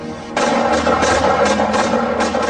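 Loud, sustained bursts of rapid gunfire from militia members firing together outdoors begin abruptly and keep up steadily without pause.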